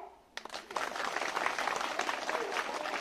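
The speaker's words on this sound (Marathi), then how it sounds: "टाळ्या." A burst of applause from an audience at a meet-the-author event starts abruptly after a brief quiet moment and continues steadily, fairly loud, with no talking.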